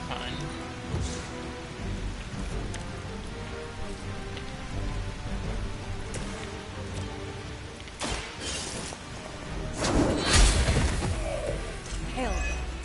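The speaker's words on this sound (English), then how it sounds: "Hail." Hail pelting down in the video game Marvel Midnight Suns, a dense clatter of impacts over rolling, rumbling background effects, with bursts of sharper crashes swelling louder toward the end.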